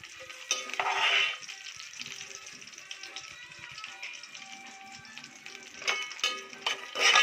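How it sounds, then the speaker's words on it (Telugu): Dry fruits frying in a pan for carrot semiya kheer, with light sizzling and intermittent taps and stirs of a spoon against the pan, a few louder clatters near the start and end. "సో వేసి ఇందులో బాగా ఫ్రై చేసేసుకుందాం."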